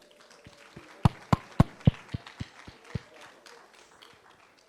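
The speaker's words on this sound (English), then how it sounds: "Please let's continue the applause" A short run of separate claps for award winners at a physiology quiz and workshop ceremony in Kigali, Rwanda, about ten sharp hand-claps spaced fairly evenly, strongest early on and thinning out toward the end, with no voices.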